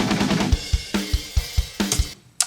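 Distorted punk-rock guitar chugs land in short, palm-muted bursts on top of drum fills, a steady run of punchy hits with a brief gap before a final stab.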